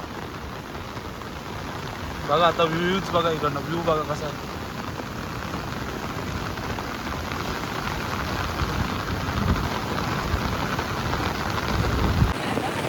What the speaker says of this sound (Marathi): आणि इकडे पाऊस